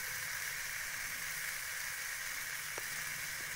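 Mixed vegetables sizzle as they fry in a pan, a steady, even hiss that carries on without pause and with no voices over it.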